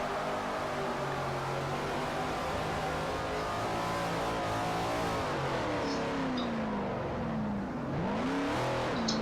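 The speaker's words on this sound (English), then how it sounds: "Just the power of the mighty V8." A mighty V8 engine revs and howls continuously during a drift run on the Fujimi Kaido course in Forza Motorsport 4, loud and sustained with shifting pitch sweeps near the end.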